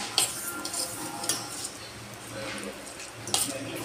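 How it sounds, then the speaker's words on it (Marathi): Roasted millet flour is stirred with added water in a metal pot, giving a quiet scraping swirl with a few light clinks of the spoon against the vessel. "आणि असं मिक्स करायचं थोडंसं."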